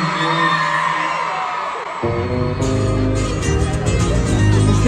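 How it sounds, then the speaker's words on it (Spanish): Women in a concert crowd scream and whoop loudly and continuously, a dense wall of cheering mixed with live music that swells midway, at a show by a regional Mexican artist. "Ese grito de todas las mamacitas solteras esta noche."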